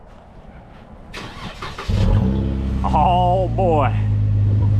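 A car engine cranks, catches and settles into a loud, steady idle, then revs twice in rising, wavering bursts nearby, with a brief voice over the engine.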